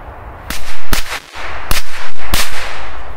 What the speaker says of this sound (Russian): Посмотрим, как он 5 раз бахнет.